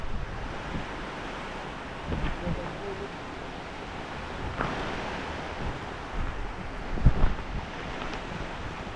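Strong wind roars and rushes continuously, gusting in waves with a broad wet hiss like heavy rain, with occasional louder bursts and thumps.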